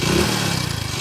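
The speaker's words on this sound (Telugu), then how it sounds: "ఇంజన్ లోపల టైమింగ్ చైన్ పోతే ఈ సౌండ్ వస్తుంది బండికి." Motorcycle engine with a failed timing chain, running close and loud for a brief moment with a steady low rumble and faint clattering mechanical noise throughout.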